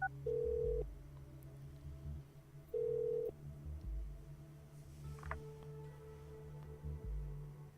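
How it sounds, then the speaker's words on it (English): A phone call connects in the game Orwell, with two short, loud ringback tones spaced a couple of seconds apart, followed by faint clicks and a thin line tone. "Unknown person is calling Raban. Wanna tune in?"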